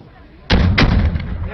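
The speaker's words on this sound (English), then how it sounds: "The sound of gunfire almost constant." Two heavy gunshot blasts in quick succession during fighting between Kurdish forces and ISIL, loud and booming, followed by rumbling battle noise.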